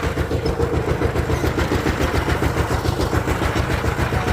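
A diesel engine machine runs with a steady, rapid mechanical chugging and a low throbbing rumble, loud and continuous with no talk over it.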